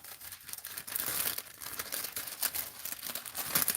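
Plastic shrink wrap gift bags crinkle and rustle in quick, irregular handfuls at close range, soft but continuous crackling with no one speaking.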